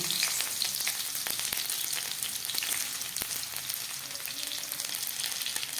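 Chopped garlic hisses and crackles in ghee in a pan, cooked as the base of a chicken tarka dal. The sizzle is steady and close, with sharp pops and spits scattered throughout and no talking.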